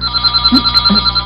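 A telephone bell rings with a steady, loud tone in a short burst, alone with no talk over it.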